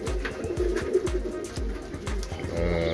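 Birmingham Roller pigeons coo repeatedly at close range, a series of low, rolling throaty calls in an uneven rhythm, with no talk over them.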